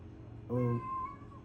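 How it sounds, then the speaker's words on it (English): A cat gives a single clear, drawn-out meow close by, over quiet background noise. "cat is making noise, I don't know what's wrong with this cat"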